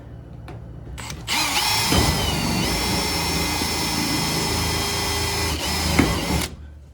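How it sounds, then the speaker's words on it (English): A power drill whirs steadily at close range for several seconds after a couple of short clicks, then spins down and stops, drilling through a door and quarter panel into a vehicle body mount. "Trusty drill."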